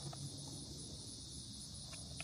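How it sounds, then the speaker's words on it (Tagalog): Crickets chirp outdoors on a bright day in Indiana, a steady, fairly faint high trill running continuously through the whole stretch with no voices. "Ang ingay ng kuliglig, guys."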